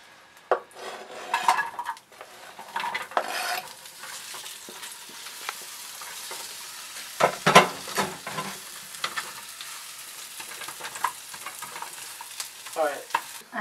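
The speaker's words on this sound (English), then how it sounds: "so now we're going to saute our onions till they're a little bit brown" Onions sautéing in a pan for Cairo koshari, a steady soft sizzle broken by repeated scraping and clanking of a utensil stirring against the pan, close and without talk.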